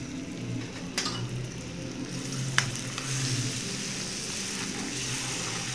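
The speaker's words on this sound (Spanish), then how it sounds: "Entonces yo lo voy a mover bien, cosa que quede la mantequilla integrada con el azúcar ya cremada." Butter and creamed sugar sizzle in a pan on the stove for peanut turrón, a steady close sizzle broken by a few sharp clicks and scrapes of stirring.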